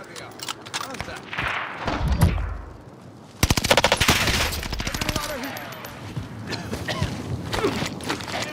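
Large caliber gunfire in the video game Warzone, a fast, loud machine-gun burst that hammers out rapid rounds for a couple of seconds, followed by scattered shots and movement noise, with a voice talking briefly.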